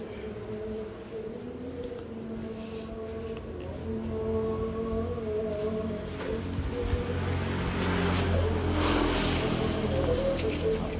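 A car engine running with a steady low hum and tonal drone that grows louder and rougher toward the end, with faint background noise.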